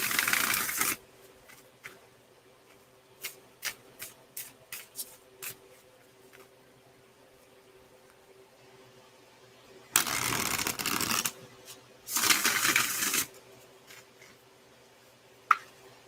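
Tarot cards shuffled in a few loud bursts of fast riffling, with a string of light taps and shuffles between them, heard close up with nothing else in a quiet room.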